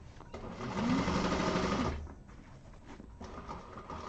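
A Trailblazer sewing machine stitching quilt pieces, a close, steady mechanical whir for about two seconds that then drops to quieter, intermittent machine noise.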